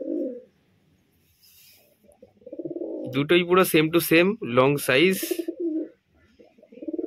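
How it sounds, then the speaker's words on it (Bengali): Pigeons in a pet-market setting, a male and female of the same long-bodied breed, coo in a close, loud burst of throaty, repeated calls, with someone talking before and after. "এই যে দেখো পায়রা, দেখো মস্তি করার জন্য এরকম টাকাটাকি করছে, দেখেছো?"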